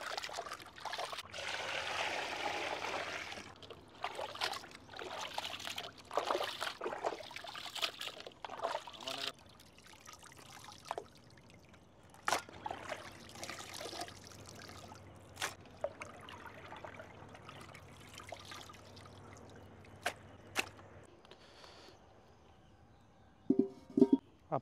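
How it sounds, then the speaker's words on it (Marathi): Cut chicken pieces for a Vidarbha-style kharda chicken are rinsed under clean running water, giving an intermittent trickle and splash with sloshing pauses and a few sharp clicks near the end. "आता चिकन स्वच्छ धुवून घेऊ।"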